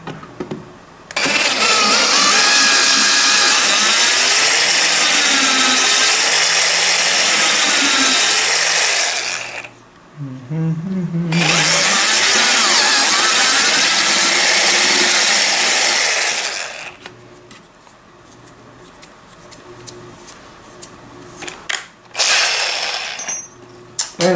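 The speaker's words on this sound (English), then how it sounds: "make it wider than this using drill" A loud electric drill whirs in long bursts widening a hole in a Honda CB400 air filter housing, stopping briefly in between, followed by quieter clicking and handling noises near the end.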